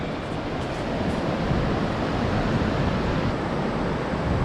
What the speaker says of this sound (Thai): เป็นน้ำตกตาดที่ใหญ่ที่สุดในอาเซียน